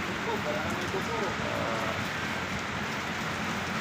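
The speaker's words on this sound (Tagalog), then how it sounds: "napakalakas ng ulan" Heavy rain pours down in a dense, continuous hiss, loud and steady across the whole stretch with no pauses.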